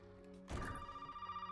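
A telephone rings inside Resident Evil Biohazard gameplay, entering abruptly partway through over a steady tonal game ambience, its ringing tone persisting and pulsing to the end at moderate level.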